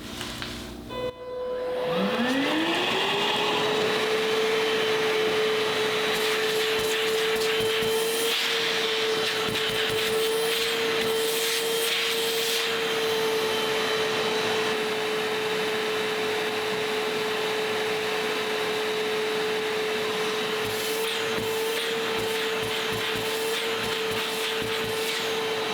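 A Festool 18-volt CT Midi cordless dust extractor fitted with a CT Cyclone separator starts up and runs steadily with a loud, constant motor whine and rushing suction air, no voices.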